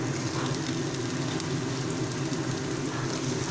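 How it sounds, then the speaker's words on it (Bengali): Vegetables with potato fry alongside dried fish in a pan, giving a dense, steady sizzle and crackle that stays constant and fairly loud throughout without any talking. "এগুলো ফ্রাই হতে হতেই এক এক করে সব সবজিগুলো আমি এর মধ্যে দিয়ে দেব।"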